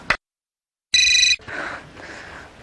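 A telephone rings once in a short, bright electronic burst during a Hindi TV comedy serial, followed by quiet room noise.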